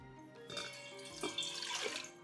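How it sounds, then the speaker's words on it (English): Water runs and splashes into a rice cooker insert while making sushi rice at home, a steady close pour with a few brief gurgling bursts and no talking. "And we're going to put in 3 cups of water."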